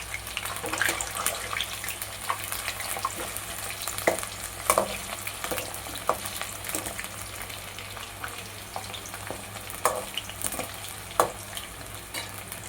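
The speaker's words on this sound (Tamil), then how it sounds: "காயை இப்படி நல்லா பொரிச்சுக்கோங்க, நல்லா கிண்டி விட்டுக்கணும்." Brinjal pieces fry in hot oil in a pan, with a continuous close sizzle and repeated scraping stir strokes throughout.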